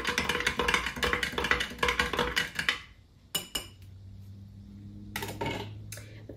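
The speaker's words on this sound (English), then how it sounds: "Give this a stir." Sourdough starter made with potato flakes being stirred in a jar, with a rapid run of close clinks and scrapes of a utensil against the glass, then a pause and a few louder knocks.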